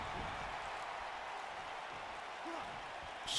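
Steady crowd roar and applause fill an Orlando arena in a WWE-style wrestling video game, a continuous wash of cheering that swells slightly near the end.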